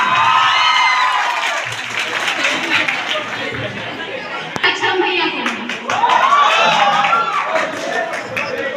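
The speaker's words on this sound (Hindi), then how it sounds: "तो अली सर के लिए बहुत जोरदार तालियां" Students at a Class 12 school farewell party clap and cheer for a teacher, lively crowd applause mixed with shouts and chatter, swelling again toward the end.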